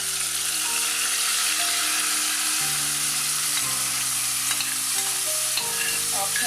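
Chopped fresh tomato hits a hot pan for Nigerian tomato and egg sauce, setting off a loud, continuous sizzle with stirring clatter and tonal hums running underneath.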